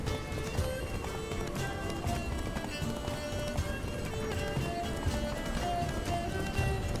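Roach, the horse in The Witcher 3, gallops in a fast, steady clip-clop of hooves, close and continuous under a game music bed.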